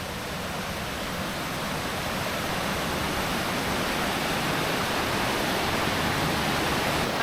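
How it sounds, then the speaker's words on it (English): Rushing water from a waterfall near Mindo, a dense steady roar that fills the scene loudly and continuously with no voices over it. "so I've made it to the first waterfall. I don't know if you can hear me over all the water"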